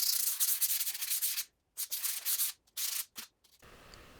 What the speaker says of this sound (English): to make the brass shiny, I use 600 grit sandpaper. It's wet and dry sandpaper